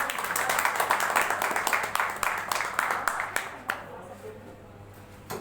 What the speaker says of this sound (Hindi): एक बार जोरदार तालियां आप लोग बजा दीजिए।